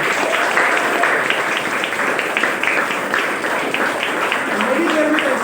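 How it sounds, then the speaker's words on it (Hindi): Audience applause at a motivational speaking event in Mumbai, a steady wash of clapping at moderate level with voices mixed in underneath. "बहुत सारी तालियों के बीच हम फिर से एक बार"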